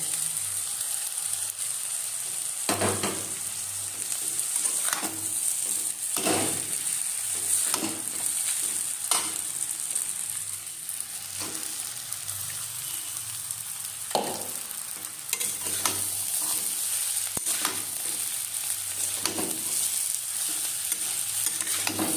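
Homemade Maggi noodles stirred and fried in a pan: a steady sizzle runs throughout, broken by repeated scraping stir strokes at an irregular rhythm, close and moderately loud, with no talking.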